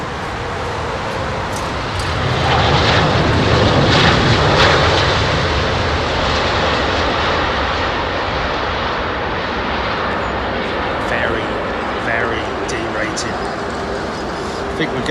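An Airbus A380 rolls down Heathrow runway 27R after landing with hardly any reverse thrust, its engines giving off a loud, steady broadband roar that swells briefly and then holds, while people talk over it.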